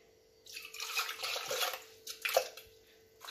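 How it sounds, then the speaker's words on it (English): Water splashing as meat and cow bones are rinsed for Cameroonian assorted meat pepper soup, irregular sloshing bursts and drips near the microphone over a faint steady hum. "I'm going to rinse this"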